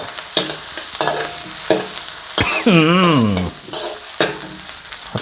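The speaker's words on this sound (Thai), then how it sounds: "ใส่น้ำมันแล้วครับน้ำมันห้อนก็ พริกลงเลยครับ" Chillies sizzle loudly in hot oil in a pan for a wagyu beef holy basil stir-fry, with a utensil repeatedly scraping and stirring up close and a brief high squeal partway through.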